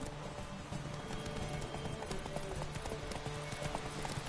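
In the video game The Witcher 3, a horse gallops with rapid, even hoofbeats that drum steadily throughout at a moderate, fairly distant level.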